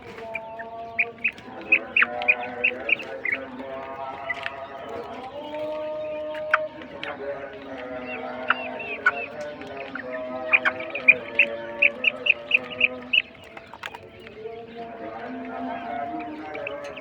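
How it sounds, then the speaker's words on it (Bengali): European white giant coturnix quail call in a pen, a stream of short, clipped chirps and squeaky repeated notes at moderate distance, while someone talks steadily over them. "দেখতে আছেন আমার এখানে ইউরোপিয়ান হোয়াইট জায়ান্ট কটনিস পাখি"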